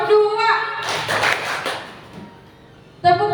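Children clap twice in unison during a group clapping game at a Quran learning center, a short burst of mixed hand claps and taps rising over nearby speech, then fading before an adult voice returns.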